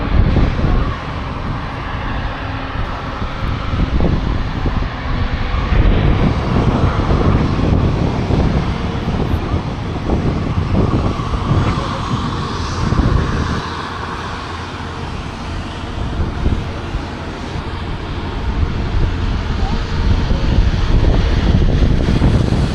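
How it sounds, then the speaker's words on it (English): A Jet2 low-cost airliner touches down at Manchester Airport, a loud, steady roar of engines and rushing air that swells and holds for many seconds, with wind buffeting the microphone and no talk. "Touching down is another Palmer flight, this time low-cost carrier Jet 2."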